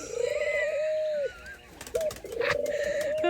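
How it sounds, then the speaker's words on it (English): Laughing doves coo close by in a rhythmic, soft, bubbling series of rising and falling notes. Two phrases are separated by a short pause, with a faint rustle between them and no talking. "That's one of them laughing doves right there."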